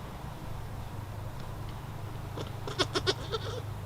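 A Nigerian Dwarf goat in labor gives a few short, strained bleats near the end, close by, after a stretch of quiet low background hum.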